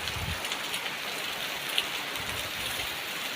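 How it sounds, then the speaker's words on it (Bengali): Heavy rain pours down in a steady, dense hiss of drops striking surfaces, even and continuous, with a faint low rumble near the start and no voices. "জোর বৃষ্টি পড়ছে"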